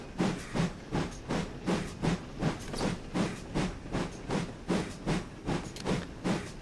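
GWR steam locomotive No.4110 on the Paignton & Dartmouth Railway hisses steadily with the blower on, overlaid by an even, rhythmic series of soft steam beats at a brisk pace, fairly quiet and free of talk.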